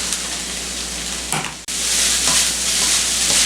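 Four cups of rice are stir-fried in a hot pan over high heat, giving a loud steady sizzle broken by a scraping stir and a brief dip in sound before the hiss swells again.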